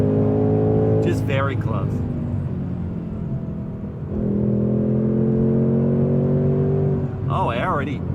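Engine of a 2024 Mustang GT with a manual gearbox, heard from inside the car, revving steadily as it accelerates, then easing off and pulling up again, loud and continuous, with someone speaking briefly over it.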